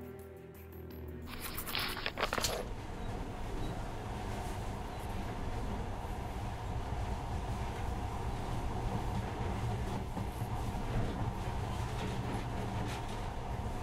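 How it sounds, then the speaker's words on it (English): A monorail train runs steadily in the video game Metro Last Light Redux, a continuous low rumbling drone of wheels and motor that holds at an even level throughout, with a brief brighter clatter near the start. "In the past, trains were ordinary things. But now, this monorail seems magic, doesn't it?"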